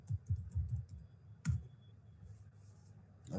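Keys clatter in quick bursts as a command is typed on a computer keyboard, a run of close clicks followed by a single sharp strike and a final tap after a pause.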